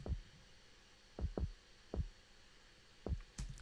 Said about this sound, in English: It's a pretty solid kick.